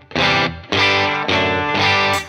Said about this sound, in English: So it's just a bit of drive, a bit of light drive there.